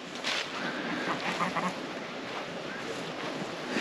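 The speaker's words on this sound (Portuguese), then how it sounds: "Aqui tem os gansos." Geese honk and quack amid outdoor noise, a busy cluster of calls under broad hiss, moderately near.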